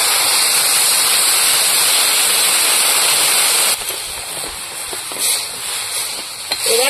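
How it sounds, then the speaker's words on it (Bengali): Water is poured into a pan of fried hilsa fish heads, a loud rushing hiss that runs steadily for several seconds then drops to a quieter bubbling sizzle. "এবার জল দিয়ে দেবো।"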